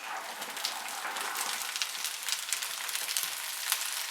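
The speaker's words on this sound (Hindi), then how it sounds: "इनको तेज आंच पे 2 मिनट के लिए फ्राई करेंगे" Potatoes, peas and carrots sizzle and fry on high heat with ginger and garlic for a vegetable biryani, a continuous, bright crackling hiss with small pops, close and steady, no talking.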